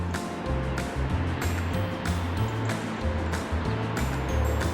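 Surf washes onto the beach at Malahide village near Dublin, Ireland, a steady broad hiss of waves with rhythmic swells rising and falling, with no one talking.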